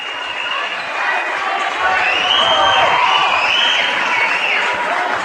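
Camdenton Lakers home fans at a high school boys basketball game against Rolla roar in a loud, continuous wall of cheering that swells midway and stays strong, with a commentator speaking over it.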